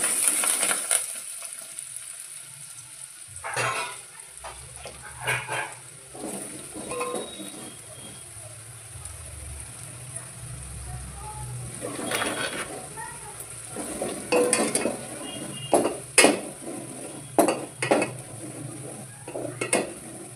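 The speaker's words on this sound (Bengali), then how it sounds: "এই যে কারি পাতা পেঁয়াজ দিয়ে দেবো।" Curry leaves and onion hitting a hot pan for a South Indian mutton curry, with clattering of a utensil against the pan, metallic clinks and a low sizzle underneath, close by, with sporadic sharper knocks toward the end.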